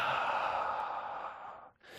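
A long, steady exhale of breath during a vinyasa yoga session, loud and close, fading near the end before a brief renewed breath.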